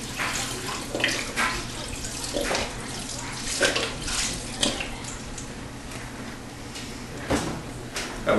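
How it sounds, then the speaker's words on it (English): Beef broth poured into a pot of pinto beans, a steady faint liquid splash and trickle with small clinks and knocks throughout. "So I'm going to add a little bit more beef broth to it"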